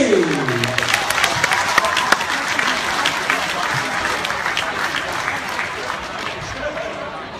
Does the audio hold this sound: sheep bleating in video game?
no